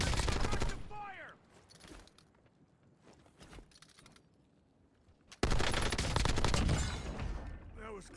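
Rapid bursts of XMG machine gun fire in a first-person shooter video game, loud and dense at the start, then quieter gaps with faint shots, then another long, intense volley of automatic fire near the end.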